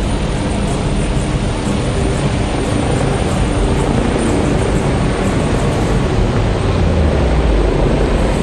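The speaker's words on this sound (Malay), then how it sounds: "Pesawat angkut yang dipamerkan sebentar tadi merupakan pesawat angkut strategik dan taktikal" A military transport aircraft flies past during the 2024 National Day parade rehearsal. Its engines make a loud, continuous roar that fills the whole stretch, with a low drone swelling toward the end and no voices.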